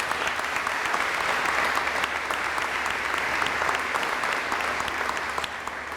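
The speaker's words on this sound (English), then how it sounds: "Would you please give them a round of applause as well?" A crowd at a cyber academy graduation ceremony applauds steadily, dense clapping filling the room from start to finish, fading slightly at the end.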